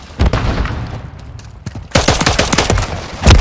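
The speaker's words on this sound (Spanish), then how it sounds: "Me están disparando." Rapid bursts of automatic gunfire in the video game Modern Warfare 3, loud close volleys separated by a brief lull, then a final heavy shot.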